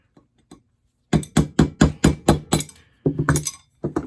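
A hammer strikes metal sprocket tabs on a vintage Honda CL350 motorcycle in a quick run of sharp, ringing knocks, then pauses and resumes with a few more blows, close up.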